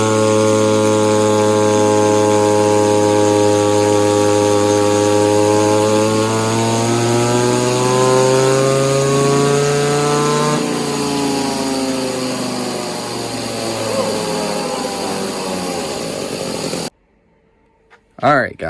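A modified V-Modest 2511 clone engine, an Echo 2511 copy with exhaust mod and more timing, screams on a dyno pull, pitch climbing steadily to a high whine before dropping off and cutting out near the end.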